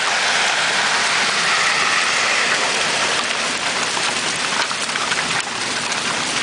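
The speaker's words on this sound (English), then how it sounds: "There's hardly any rain, just all hail." Large hailstones pelt down in a hail storm in Lakewood, Colorado, a dense, constant rattling clatter on surfaces, loud and close with no pause and no talking.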